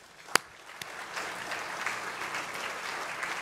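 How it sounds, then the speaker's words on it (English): Audience applause at an oration, quiet and distant, starting with a couple of isolated claps before building into a soft, steady patter of many hands. "another round of applause."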